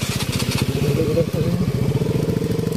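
A motorcycle engine chugs with a fast, rhythmic putter as it rides along, close and fairly loud throughout.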